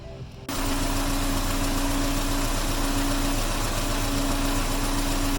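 A Mazda B2000 pickup engine, just fitted with a 130 amp alternator, catches abruptly after a brief quiet moment and settles into a loud, steady close idle with a constant whine, with no talk over it.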